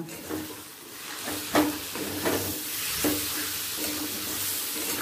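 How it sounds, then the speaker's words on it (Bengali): Marinated chicken mince sizzles and fries in a hot pan with kasuri methi, while a spoon stirs and scrapes at intervals; steady close frying hiss with a few louder clatters and no talking. "এবার দিয়ে দেব ম্যারিনেট করা চিকেনের কিমা।"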